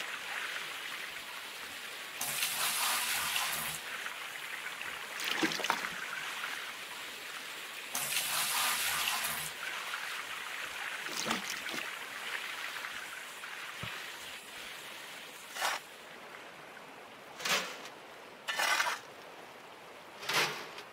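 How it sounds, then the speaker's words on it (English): Water sloshing and rinsing through a gold pan in the video game Gold Rush, a steady wash of splashing with several louder surges and a few sharp splashes toward the end. "Need to wash this whole pan out."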